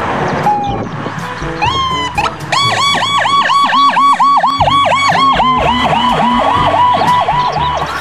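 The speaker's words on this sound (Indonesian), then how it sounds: "ini mobil ambulans." A toy ambulance's electronic siren wails in a fast repeating up-down pattern, loud and close, with a lower melodic built-in tone underneath.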